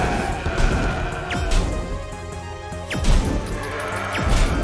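Bombs exploding in the video game CrossCode, with three or four sharp blasts punching through busy game music and effects, spaced about a second or more apart.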